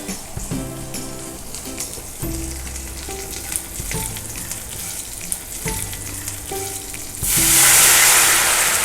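A hot dhokla tempering with curry leaves sizzles and is stirred with scattered clinks. Water is then poured in, setting off a sudden loud, rushing hiss that continues to the end.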